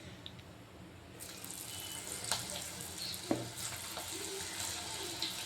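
Ladies finger (okra) dropped into hot oil on a stove at medium flame, a steady close sizzle that swells after the first second, with faint bubbling crackles and a few soft clinks.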